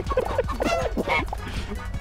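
Goose-like honking emote in Fall Guys, a run of short nasal honks in quick succession, fairly close and loud, with little else around it.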